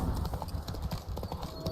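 Horse hooves clip-clopping in The Witcher 3: Wild Hunt, a short run of quick, close hoofbeats over a low rumbling background, with no speech.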